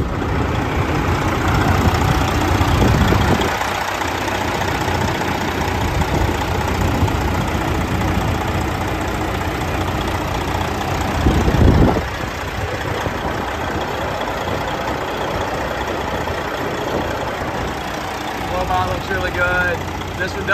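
2015 Peterbilt 389 glider kit daycab engine idling with a steady low rumble throughout, with a brief louder surge near the middle, as someone talks over it.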